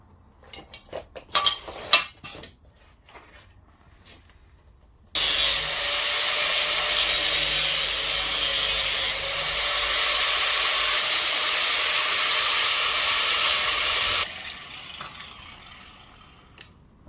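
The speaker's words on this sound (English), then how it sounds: "So I'm maybe just going to grind it off" A few scattered metallic clanks on scrap metal, then an angle grinder cuts in abruptly. It roars steadily for about nine seconds, grinding off an old weld, before it stops and winds down.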